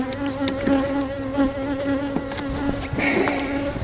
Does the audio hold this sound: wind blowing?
no